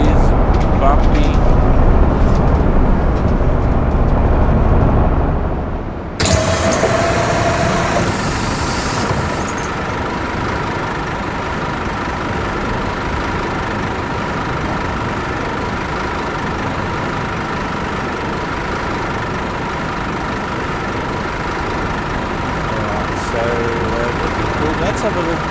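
A city bus engine in The Bus game idles and drives with a steady, loud low rumble. A sharp change comes about six seconds in, then a continuous noisy drone holds to the end.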